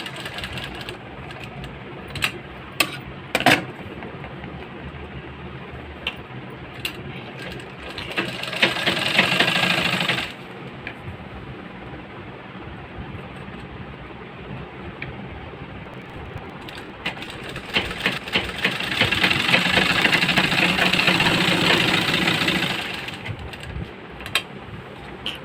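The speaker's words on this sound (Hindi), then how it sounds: "इसके किनारे में भी किनारे की सिलाई दे देंगे।" Sewing machine stitching the edge of a folded waistline belt strip for a blouse, with two steady mechanical runs of rapid needle chatter between quieter handling clicks and pauses, close and clear with no talk.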